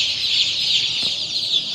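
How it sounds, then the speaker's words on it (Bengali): Australian chickens cluck in a busy flock, a continuous chorus of high clucking and calls close by with no talking. "কেউ বলে অস্ট্রেলিয়ান মুরগি।"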